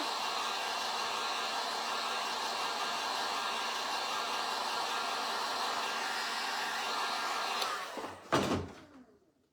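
A hair dryer blows steadily and loudly to dry paint on handmade gnomes, running alone for about eight seconds before switching off with a clunk and a brief fading whir.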